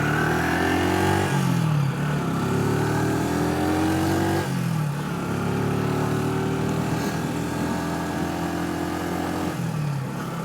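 An Orcal Astor 125cc motorcycle engine accelerates repeatedly, revving up through the gears with a steady, fairly soft drone, rising pitch sweeps around each shift, heard close and continuous with no talk.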